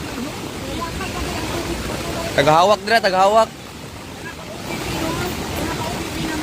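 Floodwater rushes over Layawan Bridge in Oroquieta City, a loud continuous roar of churning water with a brief burst of shouting voices partway through.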